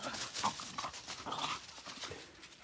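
Two dogs play and fight nearby, with scuffling, paws and soft growls and whimpers in a quiet, continuous jumble.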